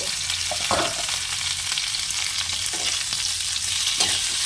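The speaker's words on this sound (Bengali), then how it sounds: "তাহলে চিংড়ি মাছটা ভাজাও হবে" Shrimp sizzle and fry in a pan with browned bitter gourd and potato for a Barishal-style shukto, loud continuous crackling with scraping stir strokes.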